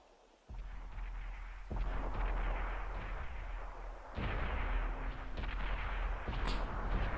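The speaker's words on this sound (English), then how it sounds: "We see some shots being traded here in the beginning." Heavy booming tank gunfire and explosions in a World of Tanks match, several deep blasts and rumbling impacts overlapping in a dense, continuous battle din.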